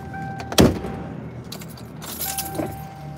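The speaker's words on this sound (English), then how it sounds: "My window wasn't going up. I had to slam my door." One heavy car door slam, forced because the window would not go up, lands near the start, followed by faint rattling and clicking as the car settles.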